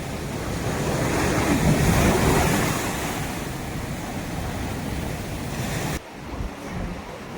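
Ocean surf rolls in on a Goa beach with a broad, roaring wash that swells and then eases, mixed with gusty wind buffeting the microphone; no one speaks.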